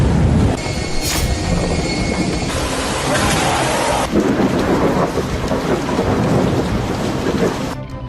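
Heavy rain pours steadily during a violent thunderstorm in the UAE, a dense continuous roar with rolling thunder rising through it, loud and close throughout.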